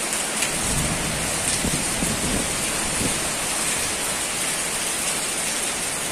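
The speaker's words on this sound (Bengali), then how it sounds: "মুষলধারে বৃষ্টি, যাকে বলে মুষলধারে বৃষ্টি।" Heavy village downpour with thunder pours loudly and steadily, a dense hiss of rain drumming on surfaces and water running off a tin roof nearby, with low thunder rumbles beneath and no talk.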